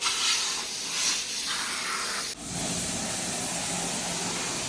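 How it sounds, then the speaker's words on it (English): A steady, loud aerosol bug remover spray hisses continuously at close range onto car paint, with a brief pause partway through before the hissing resumes. "Let me get my bug remover spray."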